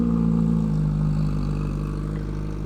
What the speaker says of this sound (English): Let's let you guys hear a cold start